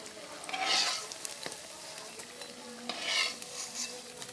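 Potato and bread snacks fry in hot oil and turn brown. A continuous close sizzle swells twice as they are stirred, with light utensil taps in between.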